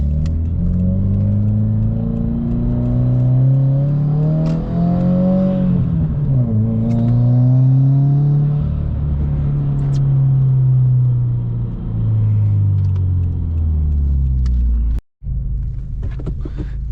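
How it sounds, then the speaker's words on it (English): Modified Subaru WRX with a new pro tune driving on the road, induction roar louder than the refined exhaust, rising and falling through gears with revs and downshifts, close and continuous with no talking. "you can hear a lot of the induction noise because that's louder than the exhaust"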